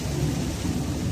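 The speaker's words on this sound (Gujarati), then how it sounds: "હા વરસાદ ચાલુ છે." Heavy rain and rumbling thunder wash over a moving car in a steady, dense roar with no voices.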